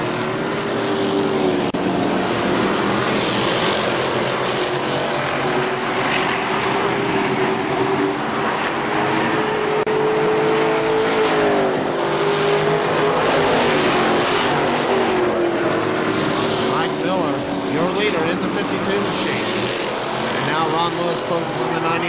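Race cars at KilKare Speedway's Labor Day race roar down the front stretch in a loud, continuous engine drone that rises and falls, with an announcer talking over it.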